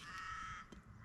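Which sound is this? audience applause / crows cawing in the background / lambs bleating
crows cawing in the background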